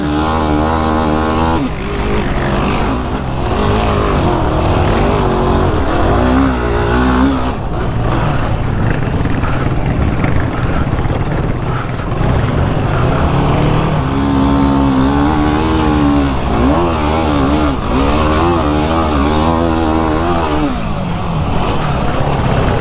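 A 2022 Yamaha Raptor sport ATV engine on a riding trail, revving and pulling continuously up close as the throttle rises and falls.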